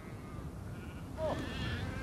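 A flock of sheep on the Mongolian grassland, with a single clear bleat rising about midway over a steady open-air background.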